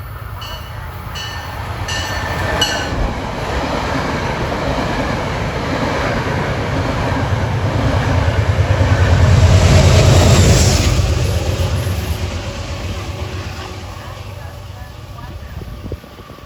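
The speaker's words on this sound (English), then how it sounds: "That was train 880 that just passed." Metro-North train passing near Scarborough, a sustained low rumble of wheels on rails that swells to a loud peak mid-pass and then eases off, with a voice speaking over it.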